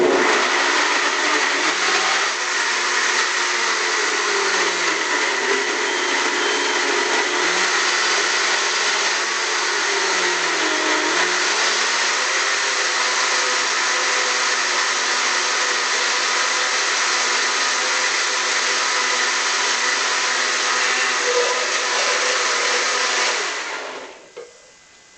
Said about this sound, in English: I'm going to push the smoothie button, and that's going to start my mix.